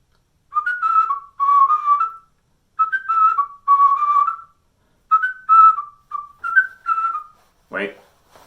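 A person whistles a melodic tune in clear, close, steady phrases, several groups of notes separated by short pauses, ending with a brief breathy sound; no talking over it.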